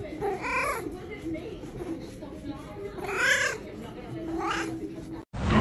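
A cat, called ugly, gives a couple of short meows, one stronger cry midway, over a steady background murmur that ends with a brief cut.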